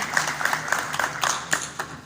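An audience at a regional corporate workshop claps for its head of training: a thin, quiet patter of hand claps in a fairly regular rhythm, sounding like a modest group rather than a roaring crowd.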